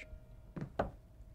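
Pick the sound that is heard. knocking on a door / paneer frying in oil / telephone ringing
knocking on a door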